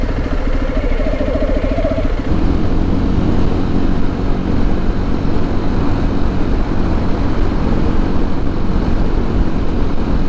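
A motorcycle engine droning loud and steady while riding along a road in Tunisia, a continuous rumble mixed with wind noise throughout, with no voices.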